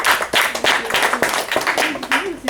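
Audience clapping at a French stand-up comedy show, a brief burst of dense applause with scattered sharp claps and some crowd voices mixed in, moderately loud throughout.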